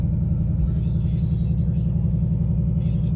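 A 2019 Ford Mustang GT rumbles at idle, a deep, steady low throb close by, with someone talking over it.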